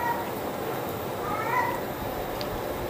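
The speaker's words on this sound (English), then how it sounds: "Cat next door says it's a lovely smell coming over." A cat next door gives a few short meows beside an outdoor van-life cooking setup with a gas grill, the calls fairly clear over a steady hiss of background noise.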